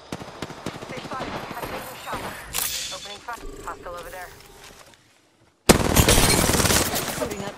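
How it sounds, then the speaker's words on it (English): Rapid gunfire rattles in Apex Legends as close bursts, whip-like cracks and footsteps, broken by a brief near-silent gap before a loud, sustained volley returns, with a voice talking over the shooting. "Taking fire! Getting shot at."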